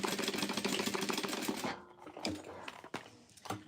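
A sewing machine back stitching a napkin box cover runs in a fast, busy whir for under two seconds, then stops, leaving a few sharp clicks and taps from the machine; fairly quiet and close.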